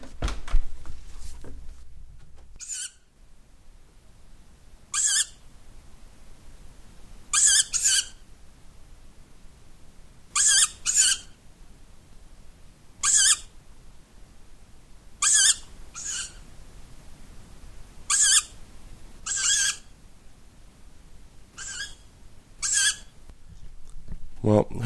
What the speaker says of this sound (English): these squawking sound outside our window